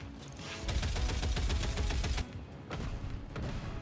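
Sustained video-game gunfire aimed at missiles in the sky, a dense rattling stream of rapid shots for about two seconds, then a few scattered louder shots and booms after a short pause.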